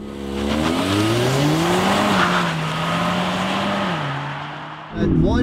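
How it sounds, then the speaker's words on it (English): A Polestar 1 does a hard launch on a race track, its engine climbing loudly in pitch through the run-up, then dipping at a gear shift and surging again, heard up close inside the cabin. "We're gonna go full brake, floor it, torque it over, and rock it off. And go! Hard launch."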